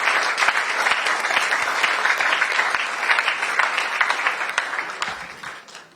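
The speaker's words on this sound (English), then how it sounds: "give him a round of applause" Steady audience applause at a school quiz championship launch gathering, dense and close, holding for several seconds before tapering off at the end.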